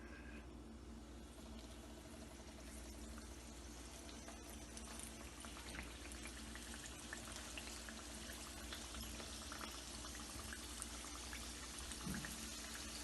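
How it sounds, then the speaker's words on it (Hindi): Chicken samosas deep-frying in hot oil, a steady dense sizzle and bubbling held close and constant throughout, with faint low hum beneath and no voices. "हम फ्राई कर रहे हैं।"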